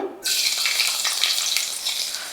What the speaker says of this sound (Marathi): तेल तापलं की ह्यात आपल्याला टाकायचं आहे लसूण